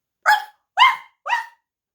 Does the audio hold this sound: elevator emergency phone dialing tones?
no